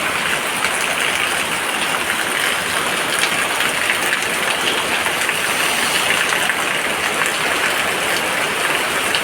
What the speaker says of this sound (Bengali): অন্ধকার বৃষ্টি